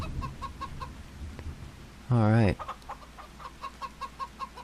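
Chickens cluck in a Farming Simulator 25 homestead, soft repeated clucks pulsing throughout, briefly interrupted by a louder drawn-out squawk in the middle.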